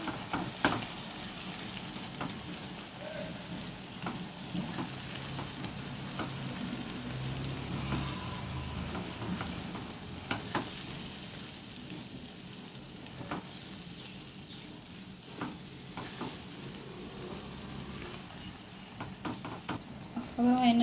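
Onion gravy cooking in a pan with corn kernels, a continuous close sizzle and frying hiss with occasional stirring scrapes and light clinks, moderately loud throughout.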